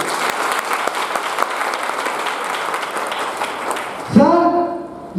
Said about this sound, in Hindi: जब जोरदार ताली हो जाए अपने लिए।